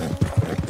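Horse hooves clip-clop in Red Dead Redemption 2, a few short, steady hoof thuds at moderate volume close by, heard alone.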